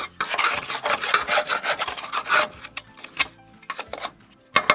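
Rough, rasping scrapes as snow is cleaned off a plow in quick repeated strokes, dense at first and then thinning into scattered scratches and taps, close by with no talking.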